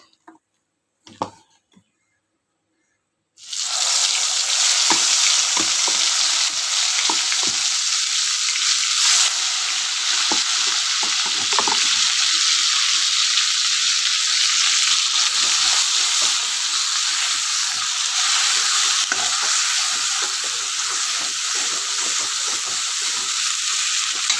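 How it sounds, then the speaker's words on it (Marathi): Turmeric and ground masala paste hit hot oil for a drumstick curry: after about three seconds of near silence, a loud, close sizzle bursts in and holds steady to the end with faint ticking crackles. "तर आपण आता तेलामध्ये हळद टाकणार आहोत आणि आपण आता वाटून घेतलेला मसाला टाकणार आहोत."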